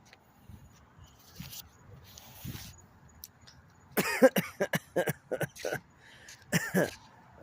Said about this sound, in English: I'm coughing for a little bit.